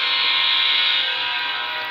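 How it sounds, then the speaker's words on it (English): Steady sustained electronic horn tone from a Halloween toy train, loud and continuous for about two seconds with no pauses and no talk. "So this is what the horn sounds like."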